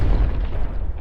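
A deep, rumbling explosion from the Jurassic World: Fallen Kingdom trailer, a loud sustained low boom that rolls on for about a second before tapering.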